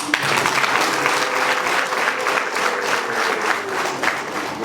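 An audience at a Rwandan traditional wedding ceremony claps steadily, a dense, lively round of applause that fills the whole moment without pause.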